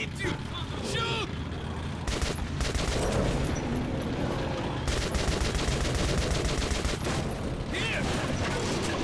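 Dense, sustained automatic gunfire from the video game Metro Last Light, loud and continuous with rapid bursts throughout, while a person shouts over it.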